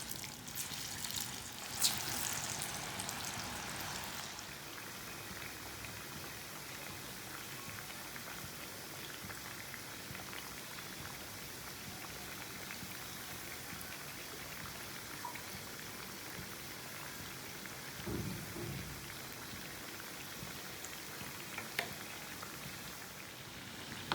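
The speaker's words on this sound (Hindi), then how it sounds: "ऑयल हमारा गर्म हो चुका है। अब टिक्कियों को फ्राई कर लेते हैं।" Potato and gram flour tikkis fry in hot oil with a soft, continuous sizzle and crackle, faint and steady for the whole stretch, with a few scattered knocks and clinks.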